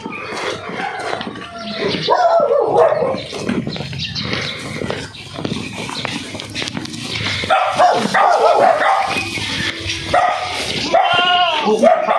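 A dog barks and yips repeatedly while confronting a cobra outdoors, sharp bursts scattered among excited human voices talking and shouting over the commotion.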